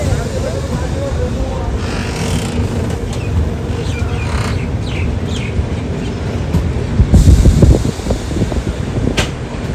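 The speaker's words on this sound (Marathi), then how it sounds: "हे बघा आपली ट्रेन ही आहे 11013 मुंबई LTT कोयंबतूर एक्सप्रेस" The 11013 Mumbai LTT–Coimbatore Express sits at Wadi Junction, a steady low rumble of the train and station ambience, with a heavier clattering swell near the end and a voice murmuring in the background.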